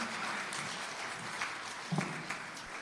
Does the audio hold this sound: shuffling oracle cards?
no